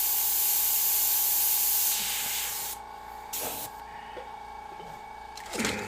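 An airbrush sprays paint onto a snake artwork, first as a steady, bright hiss, then in shorter, quieter bursts with pauses between them, close to the microphone.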